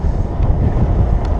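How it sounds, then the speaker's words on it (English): Heavy, buffeting wind roars across the microphone of a cyclist riding into a ferocious headwind on a tour in Taiwan, a constant low rumble with no voices. "We go cycling into a ferocious headwind now."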